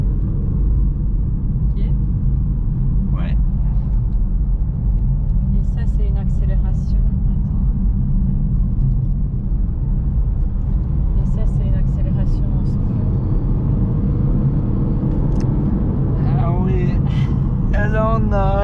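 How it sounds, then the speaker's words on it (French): A BMW 118d diesel car accelerates, heard from inside as a steady, loud low rumble of engine and road noise that rises and swells, with occasional talk over it. "Et ça, c'est une accélération."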